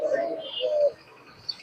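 Caged pigeons at a pigeon market in Khulna, Bangladesh coo in a low, soft burst nearby, followed by a quieter stretch with a faint chirp near the end.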